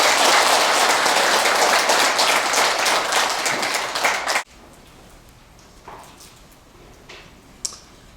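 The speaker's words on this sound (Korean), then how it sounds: "불자 여러분들께서는 모두 큰 박수로 스님을 환영해 주시기 바랍니다." An audience at a Buddhist dharma service breaks into dense, sustained applause to welcome a monk, the clapping filling the hall for about four seconds before cutting off into quiet room tone with a few faint knocks.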